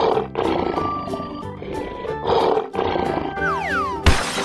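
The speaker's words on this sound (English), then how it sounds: "Lion." A lion roars loudly and at length, rumbling over a busy musical backing with a sliding sound effect near the end.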